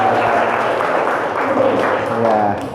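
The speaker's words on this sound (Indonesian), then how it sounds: "Beri tepuk tangan untuk Firman" Classroom audience at a school teaching-practice session claps for a student called up to present, a dense steady patter of hands lasting the whole short stretch, with faint voices mixed in.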